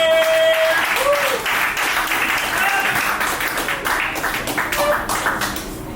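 Comedy club audience applauds a stand-up comedian at a brew venue, a dense, loud wash of clapping with cheers and whoops mixed in, sustained and slowly tapering over several seconds.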